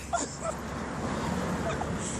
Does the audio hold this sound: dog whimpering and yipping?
yes